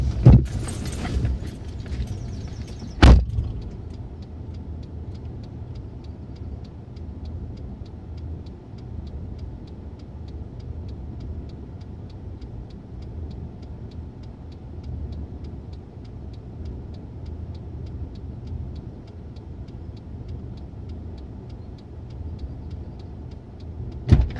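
A car driving along a dark Essex road through a tunnel of trees, a steady low engine and road rumble at an even level, with a couple of sharp knocks near the start.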